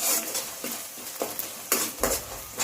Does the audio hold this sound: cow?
no